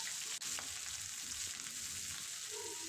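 Chopped onions and slit green chillies frying in oil with cumin for a dhaba-style chicken curry, making a soft, continuous sizzle with faint stirring, close but quiet.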